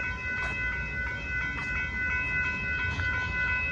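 A Union Pacific intermodal freight train rolls past a road crossing in Austin, Texas, with a steady rumble, bright sustained crossing-bell or wheel tones, and repeated rhythmic clacks as cars pass close by.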